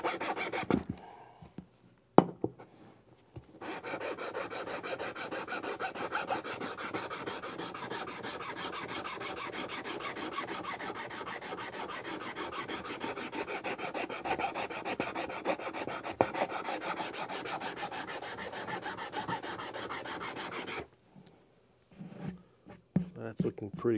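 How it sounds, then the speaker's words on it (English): A single cut file rasps steadily along guitar frets on a Martin, a continuous close scraping that runs for about eighteen seconds before stopping, with brief handling noises at either end. "now we're going to use a single cut file"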